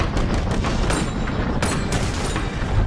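Rapid gunfire in the VR shooter Bonelab, a dense, continuous barrage of loud, close shots and booms with sharp bursts throughout.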